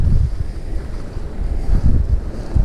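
Strong wind buffets the microphone during a fixed-gear bike ride in Benicia, California, a loud low rumble that gusts and swells without a break and has no talking over it.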